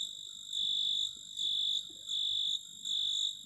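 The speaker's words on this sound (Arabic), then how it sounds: "أنكم تسمعون هذا الضجيج، هو آتي من ناحية الباور سبلاي" High-pitched whine from a CRT monitor's oscillating power supply during repair, a piercing tone that pulses louder and softer in a slow, regular rhythm with faint background rustle.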